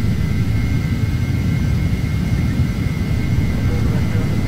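Twin jet engines of a Carenado Embraer Phenom 300 in a flight simulator hold takeoff power, a loud, constant roar with a steady whining tone on top and no break through the stretch.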